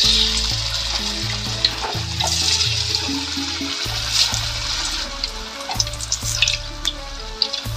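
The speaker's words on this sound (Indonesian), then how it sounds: "Saatnya digoreng." Food frying in a pan: a loud, continuous hiss and crackle of hot oil with scattered pops and occasional stirring clatter, close up and without talk.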